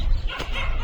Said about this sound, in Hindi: ये नया कुत्ता आया है उसकी वजह से उसके पीछे पड़े हैं ये लोग